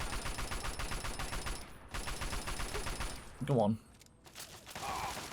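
Rapid gunfire in Fallout 3, bursts of closely spaced shots in quick rhythm, moderately loud, broken by short pauses, with a voice talking briefly in between.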